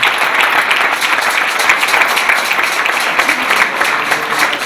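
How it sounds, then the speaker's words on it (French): Congregation applauding during a church service, a dense and steady burst of many hands clapping, loud and close, sustained without pause and with no speech over it. "j'aimerais que vous applaudiez"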